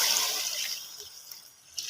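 Stream water from a creek poured into a pot of adobong pork pata with atsuete, a steady close splashing pour that tapers toward the end.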